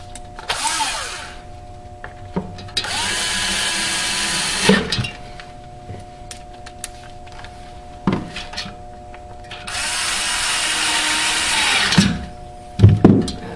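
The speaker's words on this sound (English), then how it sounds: "Put your screw back in." Cordless power drill driving a screw back into a refrigerator, two loud high whirring bursts of a few seconds each, separated by clicks, clunks and handling noises against the appliance, close up with a faint steady hum underneath; no talking.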